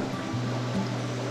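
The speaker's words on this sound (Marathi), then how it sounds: "पाण्याचा खळखळाट तुम्हाला ऐकू येत असेल" Water gurgling and rushing through Sandhan Valley during the monsoon, a steady broadband wash of flowing water, continuous and moderately loud, with no voices.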